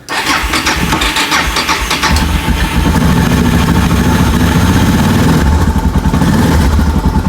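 A Suzuki DR650 motorcycle engine cranks and fires up, then settles into a loud, close, steady single-cylinder idle with a rapid thumping pulse that continues to the end.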